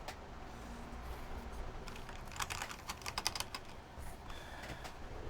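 Typing on a mechanical keyboard fitted with a DMK spacebar, a quiet run of scattered keystrokes that becomes a quick, crisp burst of clacks midway, then slows, close up with no speech.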